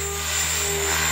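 A remote-control helicopter performs pirouettes in one spot in front of the pilot, its rotors and electric motor giving a steady, loud, humming whine that continues without a break.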